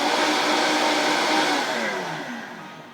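A blender whirs steadily on cake batter with canola oil added, loud and continuous before winding down toward the end.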